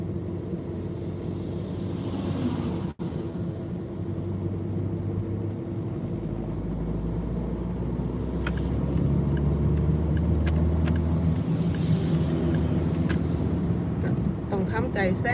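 A car drives along a road and overtakes a tractor, giving a steady low engine rumble and road noise that builds slightly toward the end, with a sharp knock early on and someone talking over it.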